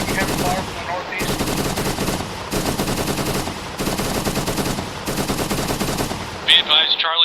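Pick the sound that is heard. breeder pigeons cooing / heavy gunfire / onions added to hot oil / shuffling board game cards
heavy gunfire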